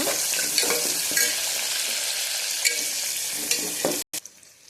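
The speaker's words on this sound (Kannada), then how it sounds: "ಈಗ ಈರುಳ್ಳಿ ಹಾಕೊಳ್ಳೋಣ. ಸ್ವಲ್ಪ ಕಾಸ್ಕೊಳ್ಳೋಣ." Chopped onions sizzle steadily in hot oil in a pan for palak pulao, a loud continuous frying hiss with occasional stirring scrapes, cutting off abruptly near the end.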